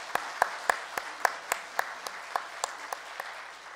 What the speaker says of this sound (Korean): 우리 감사와 격려의 박수 부탁드리겠습니다.